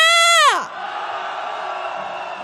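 A protest crowd on a candlelight march through Hongdae calling for Yoon Suk-yeol's impeachment lets out a loud voiced shout that slides downward, then settles into a steady, dense roar of many voices.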